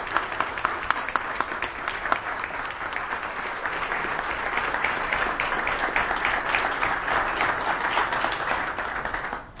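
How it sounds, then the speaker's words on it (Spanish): Audience applause swelling from scattered claps into sustained, dense clapping that continues to the end, fairly distant. "un fuerte aplauso para el Nene que me está acompañando acá."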